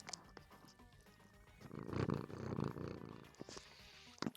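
A kitten resting on a person purrs softly and steadily, a low rumbling that swells louder midway, with faint rustling and a few small clicks near the end.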